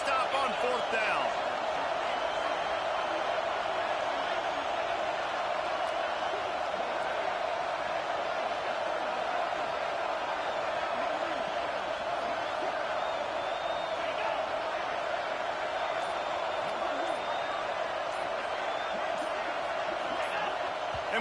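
Loud, continuous stadium crowd roar from an NCAA 26 football game, Oregon versus Texas A&M, rising on a fourth-down stop attempt; a steady dense wall of cheering and whooping holds throughout with no spoken words.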